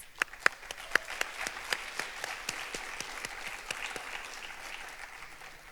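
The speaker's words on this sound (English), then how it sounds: "we'd like to give one more round of applause to our national broadcasters and academy students" Applause at a student film awards ceremony, with sharp individual claps standing out near the front over a softer crowd wash, steady throughout.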